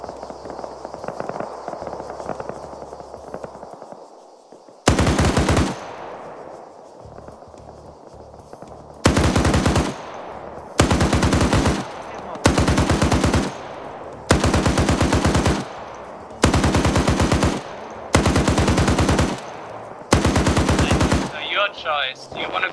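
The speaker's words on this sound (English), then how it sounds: "What I'm wondering is when is my 50 cal gonna start shooting at them?" Bursts of .50 cal machine gun fire in the Arma video game, a quiet stretch giving way to seven or eight loud, evenly spaced sustained volleys of rapid shots, each lasting about a second.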